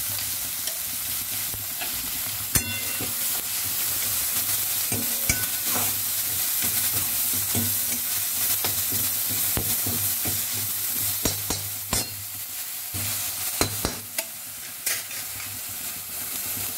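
Ground onion, curry leaves, coriander and ginger fry in a gravy in a pan. A steady sizzle runs throughout, punctuated by sharp clicks of a spoon stirring against the pan, with no talking.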